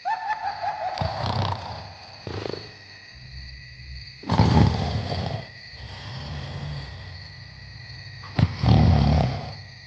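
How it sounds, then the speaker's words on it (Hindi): Loud snoring in repeated heavy breaths, rasping snorts spaced a few seconds apart, close by and with no talking. "जोर जोर से खर्राटे ले रहे थे"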